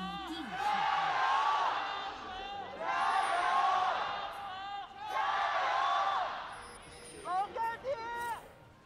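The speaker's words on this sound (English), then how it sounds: "Love to hear the crowd in tune." A large esports arena crowd at a League of Legends playoff semifinal roars and chants in three long swelling waves, loud and echoing, ending with a few short rhythmic shouts.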